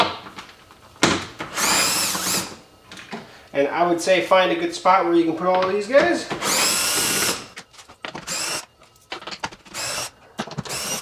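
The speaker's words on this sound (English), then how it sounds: "10 millimeter is what I have on my small little drill here." A small cordless drill removes 10 mm bolts on a Tesla Model 3 in several short whirring bursts, close and loud, between stretches of someone talking.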